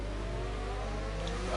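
Racing cars in a racing video game at Austria running three wide into a corner, a short burst of layered engine drone with overlapping revving tones, loud and continuous.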